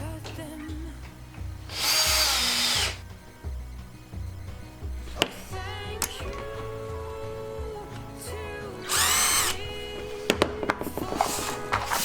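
A power drill drives a screw into wood, sounding as two separate loud whirring bursts of about a second each, with quieter clicks and handling noise between them up close.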